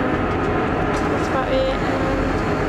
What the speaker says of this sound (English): So we're just waiting for the train to go